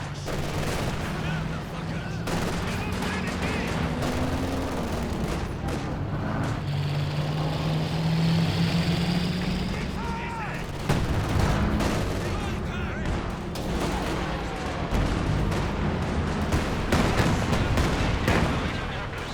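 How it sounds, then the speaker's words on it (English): Creeping artillery barrage in Company of Heroes 2, a dense battle soundscape of repeated booms and gunfire rolling across the scene, with a low engine drone and a voice commentating over it. "Going for another creeping barrage here."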